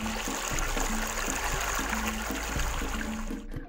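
River water flows and trickles steadily near rapids, a continuous rushing wash with a faint rhythmic tonal pattern underneath, fading out abruptly at the end.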